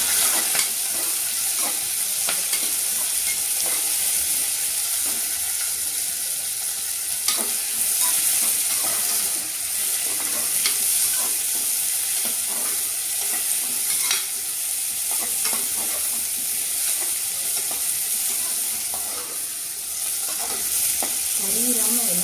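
Onions sauté and sizzle steadily in a hot pan for a ridge gourd and lentil kootu, with frequent scraping stirs throughout and no talk.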